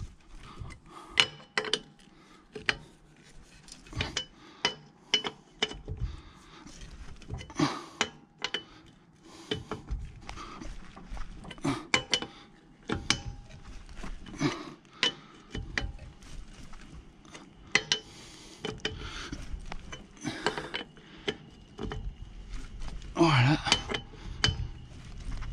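Wheel nuts being tightened on a car while changing a flat tyre, scattered metallic clinks and clicks of the wrench in irregular bursts, close by, with a voice talking intermittently over them.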